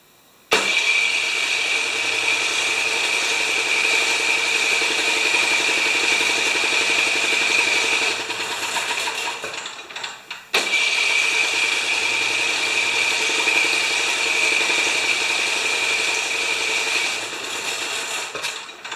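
A Craftsman snowblower with a 13.5 ft-lbs torque gas engine that leaks fuel runs loud and steady for about eighteen seconds, with a brief stumble and restart near the middle.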